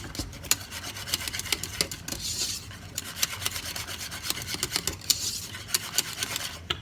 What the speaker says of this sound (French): Je mélange, je ne m'arrête pas de mélanger jusqu'à ce qu'elle ait la bonne consistance.